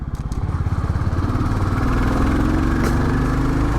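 Royal Enfield Bullet 350 single-cylinder J-series engine thumping while riding, a loud, steady low pulsing beat close up that smooths into a continuous drone as the revs rise.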